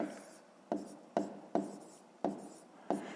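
A math answer for a fifth-grade exercise is written out in about six quick, separate scratchy strokes, each starting sharply and then fading, close and fairly faint, with no voices.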